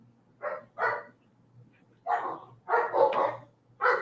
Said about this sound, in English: Can y'all hear the dogs in there?